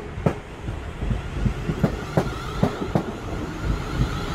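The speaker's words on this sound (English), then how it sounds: "first we've got a Class 450 Desiro set on this Southwest train service to London Waterloo." A South Western Railway Class 450 Desiro electric train runs past at Guildford station, its wheels beating out a regular clickety-clack of sharp rail-joint knocks over a low rumble, fairly close and clear.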